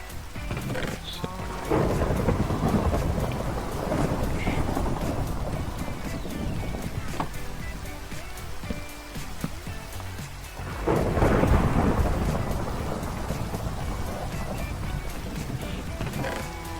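In Minecraft, a thunderstorm brings steady rain pattering on surfaces. Deep thunder rolls swell at about two seconds and again near eleven seconds, loud and close, over a constant wet hiss.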